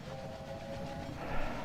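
A video-game train rolls along steadily with a sustained whistle-like tone, the rumble swelling slightly toward the end, with no talk.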